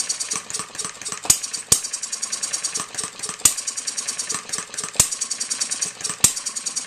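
An Economy hit-and-miss model engine runs steadily, fast rapid chuffing with sharper loud firing pops every second or so, close and mechanical, no voices.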